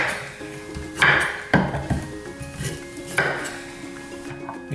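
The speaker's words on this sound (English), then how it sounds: "So we got 2 carrots, we're gonna cut off the ends" A knife cutting the ends off two carrots on a board, a few distinct thuds and crisp chops spaced irregularly with clattering knocks between them, close-up and without speech.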